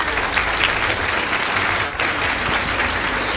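A congregation at a mass prayer service led by an apostle claps loudly for the Lord, a dense, continuous wash of applause with a brief dip partway through.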